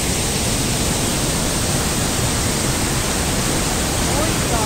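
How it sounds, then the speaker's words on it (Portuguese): Powerful waterfall at Salto do Rio Pardinho on the Rota Germânica in Rio Grande do Sul, running at high volume: a steady, loud, broadband roar of falling water filling the whole clip without a break. "Bruna, curtiu a cascata?"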